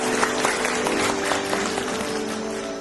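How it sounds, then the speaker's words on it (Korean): Applause from the audience at a Korean Buddhist award ceremony honoring monks, a steady dense wash of clapping filling the hall with no break, a low hum running beneath it. "함께하신 모든 분들을 위해서 따뜻한 박수 한번 부탁드립니다."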